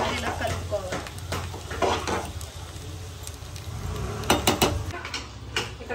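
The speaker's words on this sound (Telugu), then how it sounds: "ఇటు పక్క తాలింపు వేస్తున్నా" Tempering spices (tadka) frying in a pan on a home stove, a steady sizzle mixed with stirring and clattering utensils and pots, close by, with light kitchen background.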